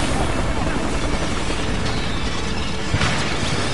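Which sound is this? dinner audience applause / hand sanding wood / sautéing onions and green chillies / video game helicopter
video game helicopter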